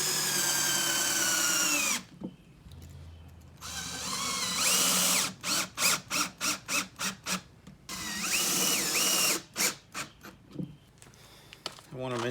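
A power drill drives screws into the frame of a homemade floor panel for a Lund SSV14 boat, with repeated short bursts and revs at close range, mixed with someone talking.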